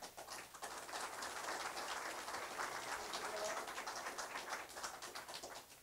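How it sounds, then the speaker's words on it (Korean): An audience applauds at a political party's defence group launch ceremony, a dense, even patter of clapping that stays fairly faint and steady throughout, with no talk. "박수만 부탁드리겠습니다."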